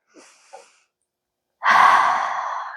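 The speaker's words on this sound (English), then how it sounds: "So we're inhaling and exhaling." A person breathes during a Pilates exercise: a short soft inhale, then after a pause a long, loud, airy exhale close to the mic.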